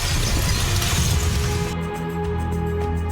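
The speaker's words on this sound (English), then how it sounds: "accompanied by the sound of material crackling and cleaving." Loud crashing and shattering with dense crackling debris as a massive object breaks under gunfire in the game Goddess of Victory: Nikke, settling into a rumbling, breaking collapse.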